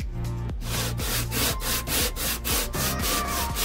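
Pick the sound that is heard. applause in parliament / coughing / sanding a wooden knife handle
sanding a wooden knife handle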